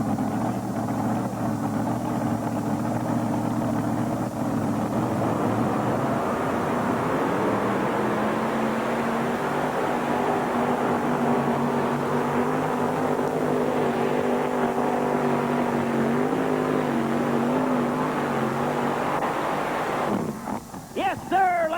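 A 1989 NTPA 1800 Mini Modified pulling tractor runs at the Ohio State Fair tractor pull. Its engine roars loud and steady for about twenty seconds, the pitch shifting as it drives down the track, with wind noise and crowd ambience around it.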